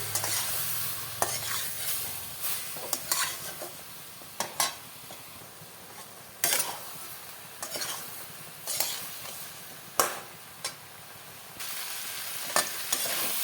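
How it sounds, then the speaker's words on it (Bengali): Marinated mutton is sautéed in a pan without oil or water, with a soft background sizzle punctuated by repeated sharp clinks and scrapes of a utensil stirring against the pan, close and irregular. "সব মটন দিয়ে দেবো মটনে আমি জল দেবো না এমনি কষিয়ে নেবো"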